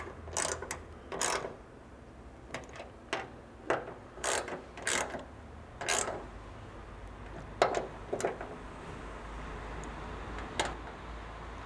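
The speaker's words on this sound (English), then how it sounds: "we can go ahead and tighten these two bolts up." A ratchet tightens two bolts on a Toyota 4Runner ditch light bracket, giving repeated short bursts of close, crisp clicking separated by brief pauses.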